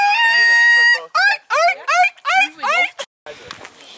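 A squeaky toy bird call imitating seagulls gives a long steady tone, then a series of rising, wavering squawks, loud and close, ending in a brief noisy shuffle.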